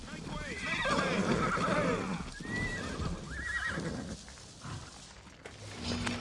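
Horses neigh and whinny repeatedly in the video game Assassin's Creed as guards ride up on horseback, with hooves clip-clopping beneath and voices talking over the calls.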